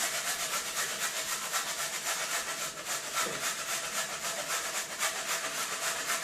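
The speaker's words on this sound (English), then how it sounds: "when you're making coleslaw, you grate it" Half a carrot being grated by hand for coleslaw, a steady rasping scrape repeating in quick close strokes with no talk.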